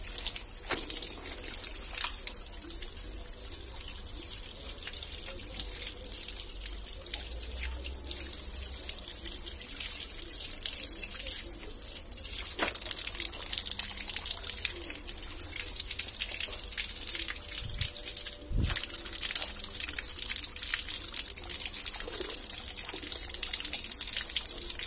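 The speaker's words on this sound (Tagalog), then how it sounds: "Tapos, banlawan nyo ulit." Laundry is rinsed in water to stop colours bleeding, giving continuous close splashing and trickling with a few sharper sloshes and drips, and no talking.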